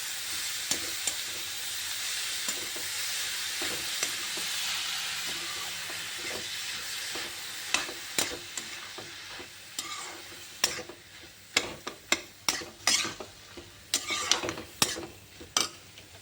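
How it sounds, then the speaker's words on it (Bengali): Capsicum and paneer stir-fry in a pan with a continuous hissing sizzle. Toward the end, sharp clattering scrapes of stirring come through in quick, irregular bursts. "তো শিমলা মির্চ একটু ভেজে নেব।"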